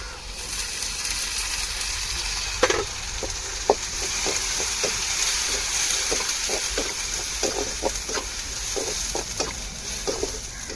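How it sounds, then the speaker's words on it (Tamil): Ground shallots hit hot oil with onions already softened in a pan, giving a continuous sizzle with scattered crackles and pops throughout, close and fairly loud, with no talking. "இப்போ நம்ம அரைச்ச சின்ன வெங்காயத்தை சேர்த்துக்கிடுவோம்."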